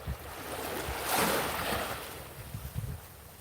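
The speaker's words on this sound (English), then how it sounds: "all you're hearing is the waves" Ocean waves washing in, a soft rushing swell that builds and recedes once, with faint low thumps of water and light wind around it.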